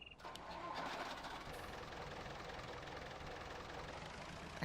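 A Fortschritt 320-A tractor engine in Farming Simulator 19 cranks briefly and catches, then settles into a steady low idle rumble, moderately quiet and alone without speech.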